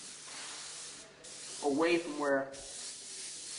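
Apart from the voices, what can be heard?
airbrush spraying paint on a Hummer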